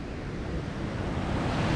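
Falling water roars at Aina waterfall near Bandipur, Nepal, a steady, loud broadband rush with no break or voices, close to the listener.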